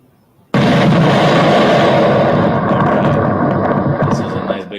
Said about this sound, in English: This is a nice big explosion.